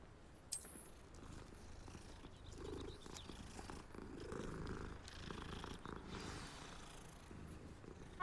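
A cat being petted in Hogwarts Legacy gives a soft, continuous low purr, steady and close under a quiet game ambience, with a brief sharp sound near the start.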